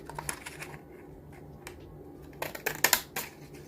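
Decorative-edged craft scissors snipping paper, faint irregular cuts that bunch into a louder, quicker cluster toward the end, with quiet pauses between.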